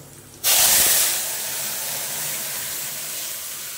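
Dal poured into burnt-hot tempering spices erupts in a sudden loud hissing sizzle that peaks briefly, then settles into a steady, softer hiss, with no voices.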